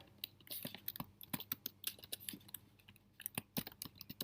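Typing on a MacBook computer keyboard: quick, uneven runs of soft close key clicks with short pauses between them, quiet and with no voice.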